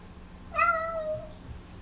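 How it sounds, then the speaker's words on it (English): A pet cat lets out one drawn-out, rising meow of under a second, fairly close and clear over a low background hum. "My cat yelling in the background."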